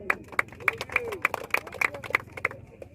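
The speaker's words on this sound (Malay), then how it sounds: "Baik, tepuk tangan." Clapping from an audience at a prize-giving ceremony in Aceh, a sparse, fairly even run of sharp claps close by, with talk murmuring underneath.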